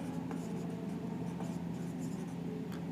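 A pen scratches across paper during a class 12 accounts lesson, quiet steady strokes over a constant low hum, with no one speaking.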